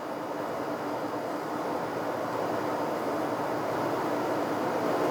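Simulated aircraft engine noise from a Redbird TD2 flight simulator rises to full power, a steady, loud broadband roar that holds evenly throughout.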